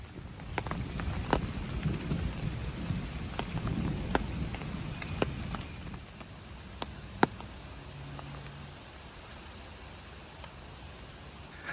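Steady rain patters on surfaces and an umbrella along the Appalachian Trail, with scattered louder drops. The downpour eases partway through and faint distant thunder rumbles low underneath.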